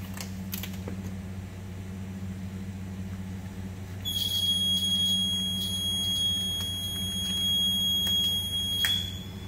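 Electronic timer alarm beeping steadily in a workshop during a carbon-fibre and wood-grain coating job, a continuous high tone entering partway through over a low hum, fairly loud and alone without talk.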